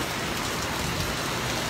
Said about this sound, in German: Ich schaue mir noch ein bisschen den Regen an.